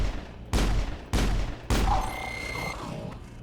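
Three heavy gunshot bursts in the video game Mass Effect, evenly spaced about half a second apart, loud and punchy, each trailing into a ringing tail with faint electronic game sounds afterward.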